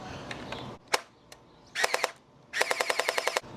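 An XSHOT Hyper Glow NightStrike toy blaster fires on full auto, giving sharp plastic clicks: a few single snaps, a short burst, then a rapid rattling string of about a dozen shots, close and crisp.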